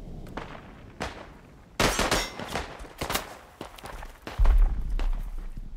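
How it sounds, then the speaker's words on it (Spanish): Machine gun fire in the First World War video game Isonzo, with bursts of rapid shots and sharp cracks at varying distances, some loud and near, a dense barrage, with footsteps and battlefield noise between bursts. "Hostia, una ametralladora ahí."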